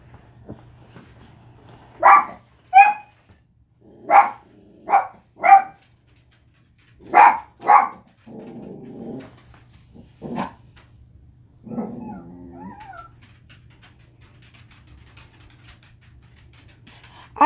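Several dogs barking indoors in bursts, a run of loud, sharp barks spaced a second or so apart, followed by a couple of low growling grumbles and scattered softer noises over a faint background hum.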